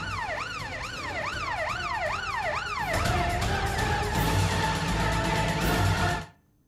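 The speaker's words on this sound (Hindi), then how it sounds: "ये दूसरी एम्बुलेंस में मुख्तार अंसारी अंदर गए हुए हैं।" Ambulance siren wailing loud and close, a rising-falling sweep that switches to a faster tone midway, with traffic rumble underneath before it cuts off.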